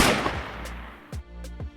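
Gunshots from a raised weapon in an audio drama, beginning with a loud blast that fades into a long decay, then a few sharper shots spaced apart at a moderate distance, with no talking.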